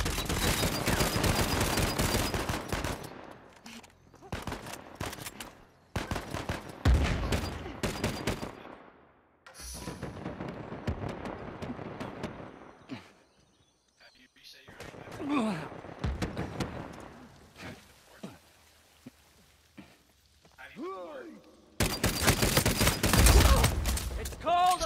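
Bursts of gunfire ring out during an Uncharted 4 multiplayer match: rapid volleys and single shots come in clusters with gaps between them, and a loud final barrage closes the stretch.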